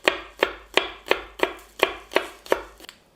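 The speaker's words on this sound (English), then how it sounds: "you take your spring onion and you cut it up" A knife chops spring onion into thin slices on a board, eight evenly spaced, crisp, close chops in a steady rhythm with nothing else heard.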